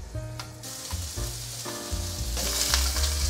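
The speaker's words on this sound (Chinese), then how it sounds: "关火取出，用回原锅开火，南瓜放进来" Pumpkin pieces sizzle as they pan-fry in a pan reused from an earlier searing step, a steady, close hiss with brief pauses and clattering as the pieces are moved around.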